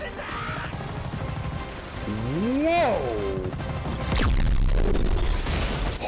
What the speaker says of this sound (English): The explosions are back like they never goddamn left